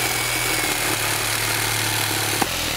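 A handheld electric jigsaw runs steadily, a constant buzzing motor drone held close and loud for the whole stretch, with a small knock near the end and no talking.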